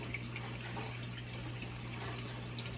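A GE dishwasher with a newly installed inlet valve fills with water, a steady close rushing and trickling hiss under a constant low hum, with no talking.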